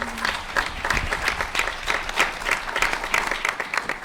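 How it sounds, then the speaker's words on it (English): An audience applauds a panel with a steady round of rhythmic clapping that fills the room, continuing evenly without pause. "can we give them a round of applause?"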